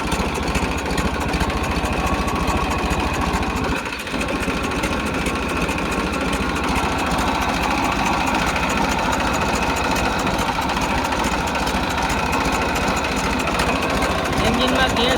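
A tractor engine with a leaking silencer idles steadily and close, a continuous rough mechanical drone with a brief dip partway through.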